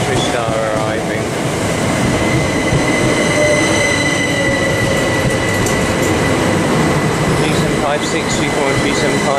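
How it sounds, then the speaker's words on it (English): A Southeastern Electrostar train pulls into Tonbridge station with a loud, close rumble, squealing wheels and rail clatter throughout, and brief voices audible over the noise. "Southeastern Electrostar arriving."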